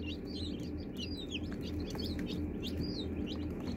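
Faint, high chirps from a group of chicks pecking at corn flour, a steady cluster of tweets over a low background hum.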